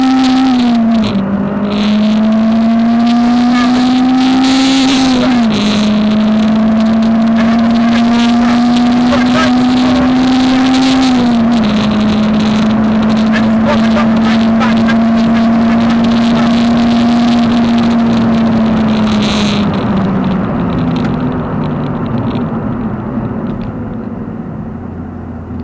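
A Honda Civic EP3 Type R engine drops through gears and pulls hard, loud and close from inside the car. Engine pitch climbs steadily, falls sharply at each downshift, then rises again as it accelerates.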